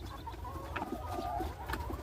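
Chickens on a small egg-laying farm cluck in short repeated bursts, fairly close and moderately loud over a low steady background hum.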